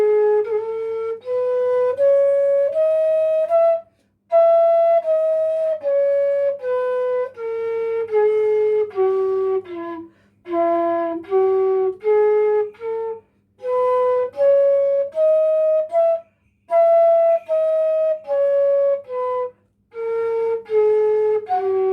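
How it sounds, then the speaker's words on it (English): A flute plays a melody of short, crisply tongued notes in quick phrases, separated by brief breaths, clear and close with a faint low drone underneath. "I recommend you to learn blowing flute with the help of your tongue."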